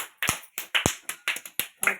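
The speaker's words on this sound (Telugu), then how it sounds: "కొట్టండి క్లాప్స్" Children clap in an Anganwadi preschool class, eight or so sharp, uneven claps spread over two seconds, close and light, with no talking over them.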